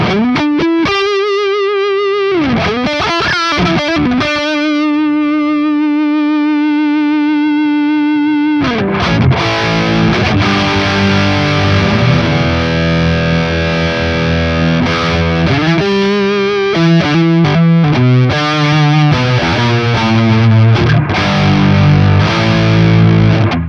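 Electric guitar on the neck pickup through a Harley Benton Vintage Overdrive pedal, first a few ringing single notes, then fuller distorted chords played loudly and continuously.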